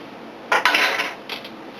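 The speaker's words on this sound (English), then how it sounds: "Stir that up a little bit." A spoon knocks and scrapes against a bowl while brandy is stirred into a pear dessert mixture, a few bright clinks in a short cluster followed by a softer tap, close by and with no talk.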